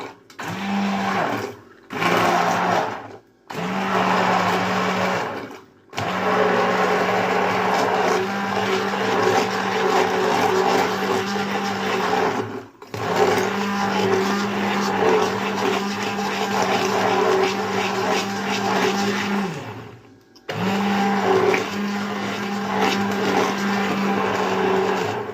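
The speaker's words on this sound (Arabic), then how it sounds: "بالهاند بلندر" A hand blender purées cooled tomatoes in a home kitchen, its steady motor whine running in several long bursts with short pauses between, loud and close.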